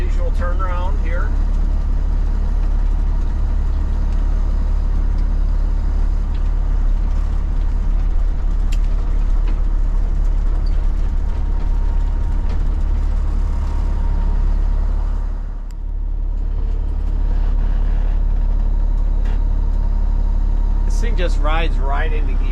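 A cabover truck fitted with a 13-speed shifter drives along with a loud, steady engine drone that dips briefly as it shifts gears, while a voice talks over it.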